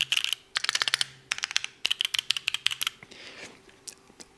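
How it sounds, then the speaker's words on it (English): Mechanical computer keyboard keys clack in quick bursts of typing, crisp close taps in runs separated by short pauses, ending with softer rustling. "So this is my main keyboard right here."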